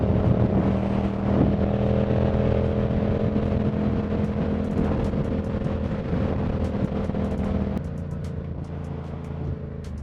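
A Yamaha R7 motorcycle engine running steadily and loud throughout, a constant close mechanical drone with a slight drop in level near the end, no talking.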